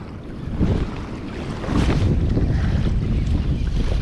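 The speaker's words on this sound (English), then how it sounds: "It's kind of windy here today." Wind buffets the microphone in a steady low roar that swells stronger partway through, with faint water and outdoor noise underneath, on the Oregon coast while crabbing.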